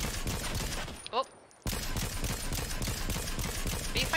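Bursts of rapid gunfire in a trio-mode shooter video game crackle almost continuously, broken by a short quiet gap, with a brief tonal sound in between.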